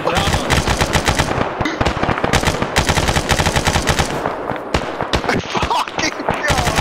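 Dense automatic gunfire from a military combined-arms game, with rapid machine-gun bursts and overlapping shots running loud and nearly continuous, while players talk over the shooting.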